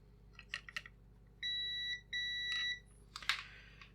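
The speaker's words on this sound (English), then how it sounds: "Let's get the multimeter out and let's check a few things." A multimeter gives two sustained steady beeps while coils on a Singing Machine karaoke board are checked, set among small clicks and handling noises at close range.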